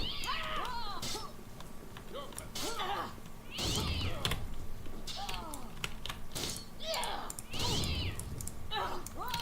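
A cat meows repeatedly in the Oblivion video game, a string of short rising and falling cries spaced every second or so, heard faintly under a person talking, with light clicking in the background.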